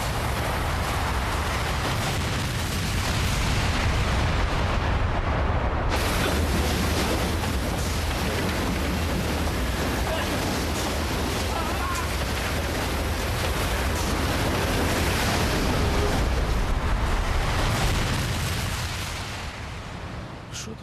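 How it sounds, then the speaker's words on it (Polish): A long, heavy rumbling roar of the Chernobyl nuclear reactor explosion, loud and continuous, fading somewhat toward the end. "Wybuch jakiś."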